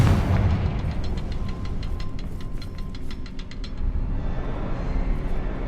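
A Confringo fire spell exploding during a Hogwarts Legacy battle, a deep rumbling blast with a dense roar and a run of quick crackling ticks, loud and sustained over steady low background noise.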